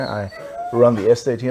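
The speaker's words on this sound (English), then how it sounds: "Sorry about my dog" A dog whines and howls in drawn-out, wavering cries, close by and fairly loud, overlapping someone talking.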